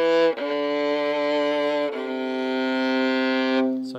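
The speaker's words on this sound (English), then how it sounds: "So that's the lowest string on the viola." Long bowed notes on the lowest string of a viola ring out alone, rich and sustained, with a brief pause and a shift of note midway before the tone fades.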